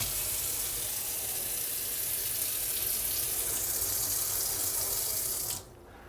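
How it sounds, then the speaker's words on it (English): Tap water pours steadily from a faucet into a sink, a continuous close hiss and splash that stops abruptly near the end, leaving quieter room tone. "you want to run the water for about 1 to 2 minutes"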